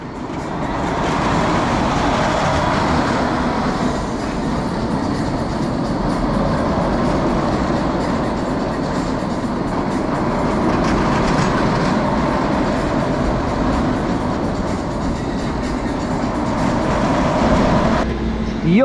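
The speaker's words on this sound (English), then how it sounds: "we found a roller coaster called Rollercoaster" A roller coaster runs along its track at a holiday park in Gran Canaria, a continuous loud rumbling roar with rattling clatter from the cars throughout, fading off at the very end.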